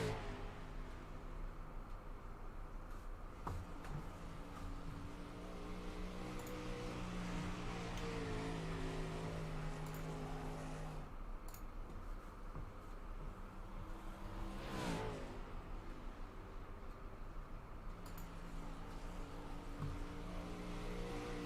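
Race car engine droning steadily through a qualifying lap in the iRacing sim, a continuous loud harmonic hum with pitch shifting as it revs, plus a brief whooshing burst midway; no voices.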